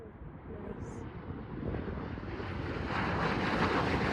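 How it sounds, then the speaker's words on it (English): A CRJ regional jet landing at Aspen, Colorado, on a windy day: a steady broad roar with gusting wind buffeting the microphone, growing louder toward the end. "this video of a CRJ landing in Aspen, Colorado, also recorded on a windy day"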